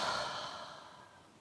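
One long, deep exhale during a kids' yoga exercise, a soft airy breath close up that slowly fades out.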